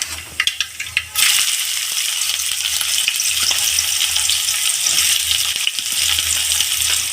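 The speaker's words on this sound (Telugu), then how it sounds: "అందులో ఎరగడ ముక్కలు వేసుకున్నాం" Onion pieces go into hot oil with mustard seeds and cumin, a few sharp pops and clicks giving way to a loud, continuous sizzle that holds steady throughout, close and without talk.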